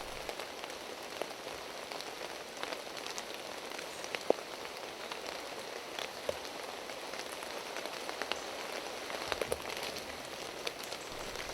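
Rain falling steadily in woodland during a roebuck stalk, a soft, continuous patter with scattered sharper drips and ticks on leaves and ground, fairly faint and even throughout, with no voices.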